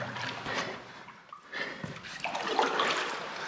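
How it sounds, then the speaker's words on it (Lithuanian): Water flowing in and rising inside a shelter, a steady rushing and sloshing wash, moderately faint, with some louder surges. "Labai daug vandens daugėja pas mane"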